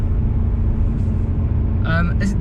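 A BMW M5 Competition in Sport Plus mode with traction control off accelerates hard, its engine giving a steady, deep, loud roar from inside the cabin, and someone speaks briefly near the end.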